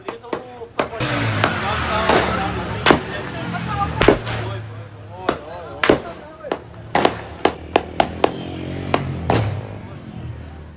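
Army gunfire aimed at unarmed protesters in Pakistan-occupied Kashmir, heard as a dozen or so sharp, irregular cracks spread over ten seconds, some in quick clusters, over a noisy background with voices.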